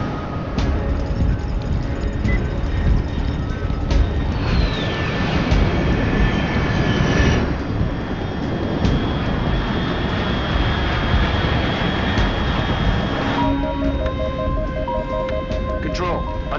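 Aircraft engine roaring overhead in the video game Metal Gear Solid Delta: Snake Eater, a loud sustained rumble with shifting tones, under clear radio-style speech.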